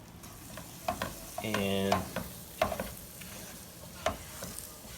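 Flour being stirred into a pot of simmering chicken noodle soup with a few scraping spoon clinks and a brief rhythmic rattling burst midway, over a low bubbling background; a voice briefly speaks.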